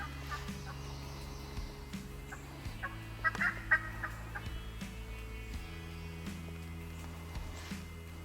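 A wild turkey gobbles faintly and at a distance in the woods during a morning hunt, with several short calls over a quiet, low outdoor hum.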